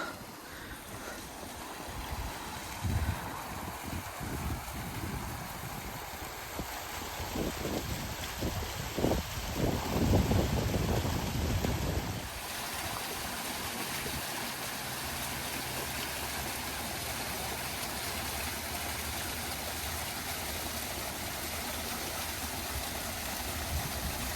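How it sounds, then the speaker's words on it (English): A waterfall beneath a walking trail gives a steady, broad rushing roar throughout, with wind buffeting the microphone and some rumbling bursts in the first half. "Oh, there's a waterfall."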